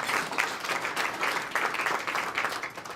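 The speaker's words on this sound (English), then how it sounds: "Let's give a round of applause at the end of 2013." A dinner audience at the DC Solidarity Dinner gives a round of applause, steady dense clapping from many hands that holds at an even level for the full stretch.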